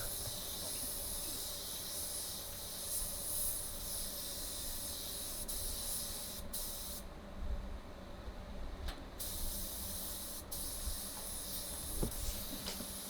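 A steady, close spray-gun hiss lays yellow paint onto a car body for racing stripes, continuous for over ten seconds with a few brief gaps, and no one talks.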